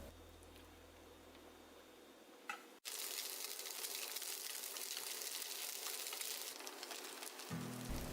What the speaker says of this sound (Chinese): 用中小火，两面煎至微黄